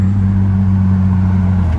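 Manual-swapped seventh-generation Nissan Maxima with an ISR exhaust drones with a low, steady rumble, heard close and loud for a couple of seconds with no talk.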